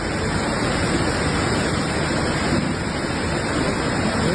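Floodwater in Italy rushes past like a river during catastrophic flooding, a loud, steady, broadband roar with no breaks and no voices.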